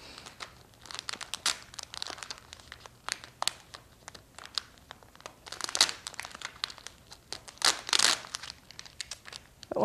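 A silver scrapbooking sticker is peeled off its sheet up close, giving a run of irregular crinkling and tearing crackles that come in bursts with short quiet gaps between them.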